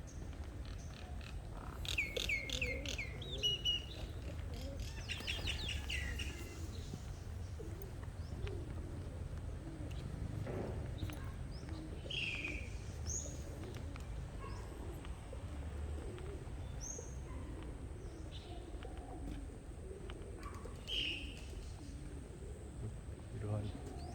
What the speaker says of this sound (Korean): 아름다운 새소리도 들리네요.